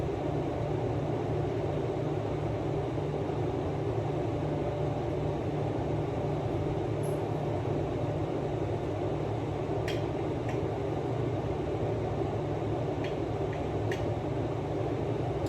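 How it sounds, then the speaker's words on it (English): A steady, broadband range hood fan over a stovetop hums throughout at low level, constant and unchanging, with no voices. "the sound you hear is my fan running over my stovetop"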